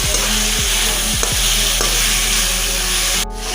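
Duck meat and potatoes are stirred in a pan, the spatula scraping in repeated strokes over a loud, constant sizzle of frying, up close; a steady low hum runs underneath until it cuts out near the end.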